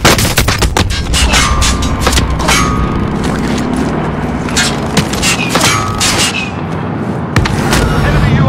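Rapid, loud gunfire fills a Call of Duty: Warzone match, with sharp repeated shots and metallic clanks close by and overlapping bursts throughout, while a game voice calls out briefly.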